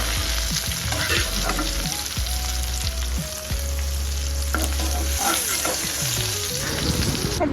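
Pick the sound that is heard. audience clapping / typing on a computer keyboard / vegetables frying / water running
vegetables frying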